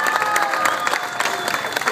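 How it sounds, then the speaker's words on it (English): An audience claps at a Chevy NASCAR event, a dense, loud round of applause that keeps going steadily from start to finish. "Let's give Hunter a big round of applause."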